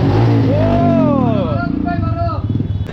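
A Bajaj Dominar 400 motorcycle engine revs up and falls back in a couple of rising and dropping sweeps, close and loud, with people talking over it.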